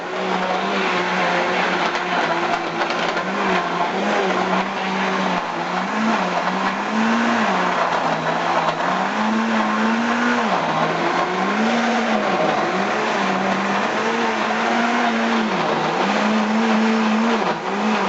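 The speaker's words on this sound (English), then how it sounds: "what I'm going to go ahead and do now is blend this, and it's going to get loud" A blender whirs continuously through milk and frozen fruit for a smoothie, a loud, steady motor roar with a wavering pitch as the load shifts, close up with no talking.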